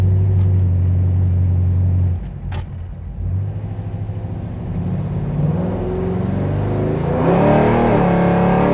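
A 1969 Oldsmobile 442 with a lowered stance pulls away at quarter throttle, its low engine rumble steady and loud, dipping briefly before building again into a rising rev toward the end.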